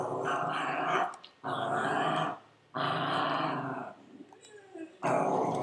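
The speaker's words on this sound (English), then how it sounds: "Your dog's even raging." A dog growling in several long rumbling bursts, each about a second long, separated by short pauses, loud and close.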